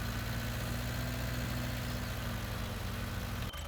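A tractor engine idles in Farming Simulator 19 with a steady low rumble and hum, loud and constant for several seconds until it drops off sharply near the end.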